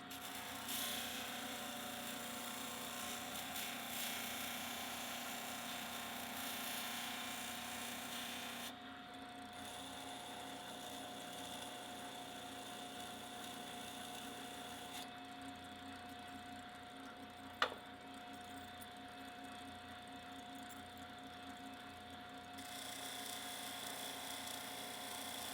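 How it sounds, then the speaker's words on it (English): Fake copies of a patented product are ground down with a power tool, giving a continuous rough grinding drone that shifts slightly in pitch, with one sharp tick partway through and no talking. "I ended up just grinding them all down"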